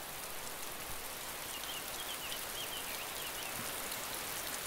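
Rain falls steadily outdoors, a dense, even patter of drops with a continuous wash of noise, moderately quiet and unbroken throughout.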